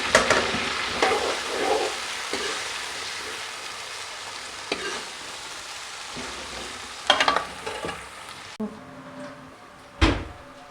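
Onions frying in oil for karela gosht, a broad sizzle that is strongest at first and then settles, broken by a few sharp knocks and clatters near the end; no talking is heard.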